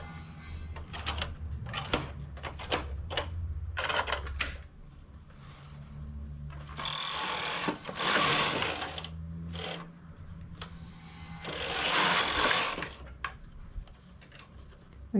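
A knitting machine works a shoulder piece for a button-up open-shoulder garment, its carriage clattering in rapid mechanical passes and whooshing sweeps, loud and close, with rhythmic clicks and brief pauses between runs.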